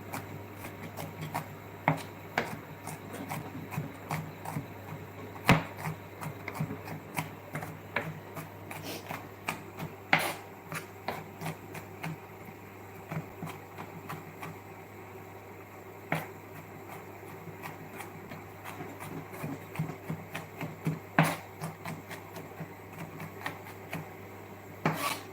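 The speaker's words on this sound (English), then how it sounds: "So I'm just going to slice the garlic, also chop the garlic into small pieces." A knife chopping garlic into small pieces on a cutting board in a fine dining kitchen, with quick irregular taps and clicks repeating steadily over a low constant hum, no talking.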